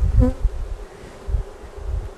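Honeybees buzzing at an apiary beside a stream, a close, continuous insect drone with a few low bumps and no talking.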